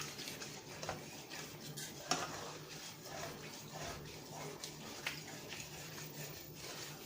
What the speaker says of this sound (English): Scrape all that good stuff off the bottom.